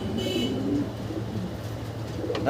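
A big grizzle single Maltese female pigeon in a loft cage gives low, soft cooing, a short run of rolling coos nearby over a quiet background.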